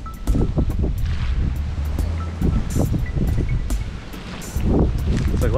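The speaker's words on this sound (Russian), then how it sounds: "Волны, ветер, короче, не слабый." Waves on a lake under strong wind, heard during a gravel bike ride: steady broadband rush of water and gusting wind buffeting the microphone, continuous and fairly loud throughout, with faint voices in the background.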